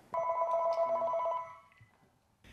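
A telephone gives a single electronic ring lasting about a second and a half, clear and moderately close, then fades into quiet room tone.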